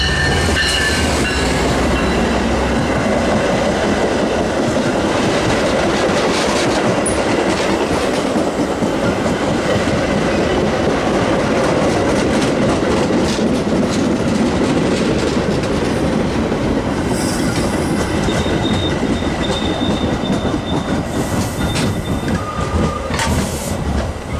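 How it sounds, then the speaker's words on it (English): A commuter train on the Milwaukee West line rumbles and clatters close by as it arrives at Roselle station, loud and continuous, with rhythmic wheel clacks and a faint metallic squeal near the end. "Milwaukee West train number 2225 to Big Timber is now arriving"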